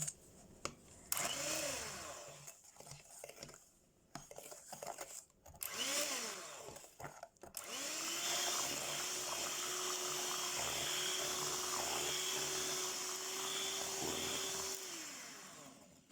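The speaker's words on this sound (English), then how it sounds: "Now I've got 5 eggs, a cup of sugar, and I'm going to start blending it." Electric blender beating five eggs and a cup of sugar for lemon pound cake, a few brief starts and stops, then a loud, steady motor whine that runs close for several seconds before winding down.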